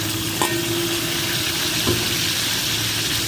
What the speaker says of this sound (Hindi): 5 मिनट हो गए हैं घी में इसको फ्राई करते हुए।